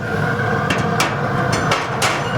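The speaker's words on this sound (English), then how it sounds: "And we'll put everything back on it. Put the grates back on it." Metal cooking grates being set back onto a Pit Boss Pro 1100 pellet grill and smoker, heard as a few sharp metallic clanks spaced unevenly over steady background noise.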